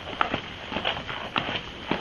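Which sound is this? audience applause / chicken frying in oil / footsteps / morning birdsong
footsteps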